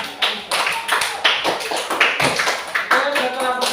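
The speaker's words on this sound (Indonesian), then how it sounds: "Kita berikan tepuk tangan untuk teman." Children in an Indonesian classroom clap together for a classmate, a brisk run of sharp, rhythmic hand claps at close range with some voices mixed in.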